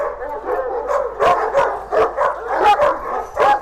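Two dogs meeting, one of them a large female over 80 cm tall, bark in a quick run of sharp, loud, close barks mixed with yips and whimpering whines.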